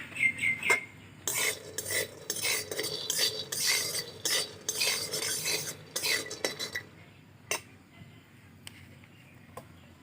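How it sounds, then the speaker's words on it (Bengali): Peanuts dry-roasted in an iron wok over a stove, stirred with a metal utensil: quick bursts of scraping and rattling for about seven seconds, then a few sparse clinks, close and fairly quiet with no talk. "প্রথমে আমি এই বাদামগুলো একটু ভেজে নেব শুকনো খোলায়"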